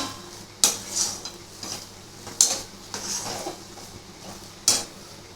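Coconut barfi mixture being stirred in a pan: a few spaced, close metallic scrapes and clinks of a spoon against the pan with quiet background between strokes.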